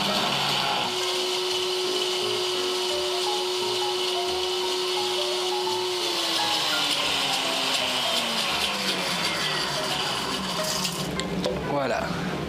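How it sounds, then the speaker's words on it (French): A kitchen blender purees a sauce with added broth juice, a loud steady motor whir holding one pitch for several seconds, then slowing and dropping in pitch before cutting off, with a voice speaking underneath. "Et pour rappeler la petite touche du bouillon, je rajoute un petit peu du jus et on va mixer le tout."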